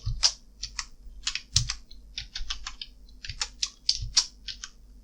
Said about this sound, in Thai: พิมพ์ชื่อนามสกุลนะครับ